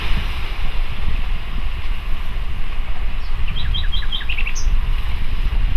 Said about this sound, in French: j'entendais à nouveau le bruit des vagues et le chant des oiseaux